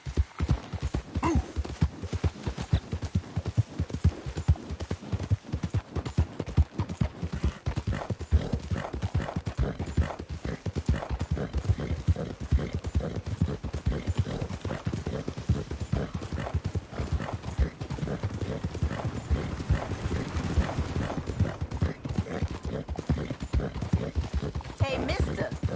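Rapid, steady hoofbeats pound throughout as a video game horse gallops, with a whinny rising now and then over the rhythmic clatter.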